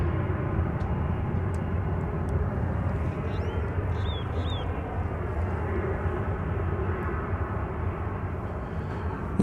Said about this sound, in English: Frontier Flight 502 coming in from Denver, an Airbus A321 is